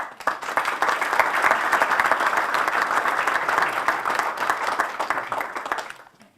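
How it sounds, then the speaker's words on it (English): An audience at the Thomas Kennedy Park groundbreaking ceremony applauds the governor, a full, steady burst of many hands clapping that swells quickly, holds evenly, then tapers off at the end. "Let's give the governor another round of applause."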